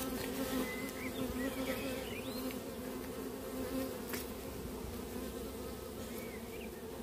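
Steady, dense buzzing of many honeybees at an open hive during frame inspection, close and continuous throughout, with faint occasional rustles underneath.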